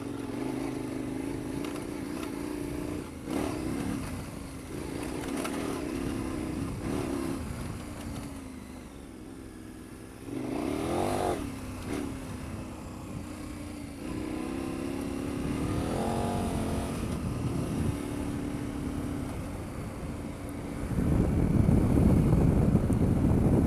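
A fully fuelled KTM 1090 Adventure R motorcycle engine drones steadily while riding, its pitch rising and falling with throttle changes and heavy wind buffeting across the microphone, growing louder near the end.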